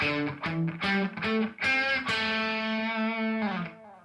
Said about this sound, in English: we're going to learn a pick muting technique so that